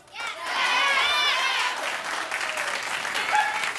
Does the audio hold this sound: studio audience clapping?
yes